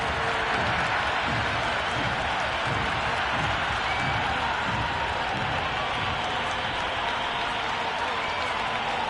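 A cricket crowd at Lord's applauds a six over the boundary in a Peshawar Zalmi vs Kolkata Knight Riders match, a steady wash of distant clapping and murmur that holds for the whole stretch.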